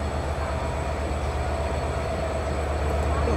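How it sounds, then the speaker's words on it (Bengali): A broad-gauge diesel-electric locomotive, a modern 66-series unit, drones with a steady, deep engine rumble and a constant hum, loud and close, continuous throughout on an express run from Khulna to Dhaka. "আমাদের আজকের ট্রেনের লোকোমোটিভ হিসেবে রয়েছে আমেরিকান প্রোগ্রেসিভ কোম্পানি দ্বারা প্রস্তুত করা সর্বাধুনিক 66 সিরিজের ব্রডগেজ লোকোমোটিভ।"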